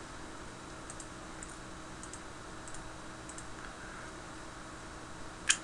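Computer keyboard typing sounds in a quiet room as a few soft clusters of key clicks, faint and spaced out, ending with a sharper click.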